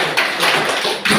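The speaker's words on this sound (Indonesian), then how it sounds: "Ya, tepuk tangan untuk mereka dulu." Students get a round of applause in a classroom during an academic coaching session: a brief, dense patter of hand claps, fairly close, with two sharper swells, and no talking.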